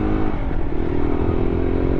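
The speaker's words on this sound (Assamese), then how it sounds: "এইখন ESD এডভেঞ্চাৰ 2025 মডেল আৰু এতিয়া এইটো ৰাইড কৰিলোঁ" Engine of an ESD Adventure 2025 model motorcycle during a ride, a steady close, loud drone with a continuous low rumble and faint clatter, no pauses.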